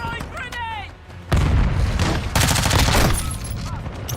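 Heavy automatic gunfire in Modern Warfare 2, a short burst followed by a sudden loud, sustained barrage of rapid shots and booms, with brief voice chatter at the start.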